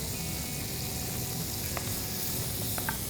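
Onions and garlic sizzling in butter in a pan for a seafood sizzler, a steady dense hiss filling the whole stretch with a few faint clinks on top, close, no talk.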